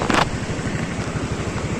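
An auto rickshaw engine putters nearby on a flooded road during heavy monsoon rain, a short, rapid, throbbing low pulse heard alone for under two seconds after a brief splash-like burst.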